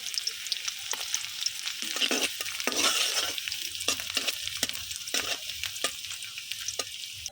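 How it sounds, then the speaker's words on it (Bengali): Chopped garlic fries in oil on a gas stove while a spatula stirs it toward brown, giving a continuous sizzle broken by regular scraping strokes against the pan, close up and without voices. "বাদামি কালার করে সুন্দর করে ভাজা নিব"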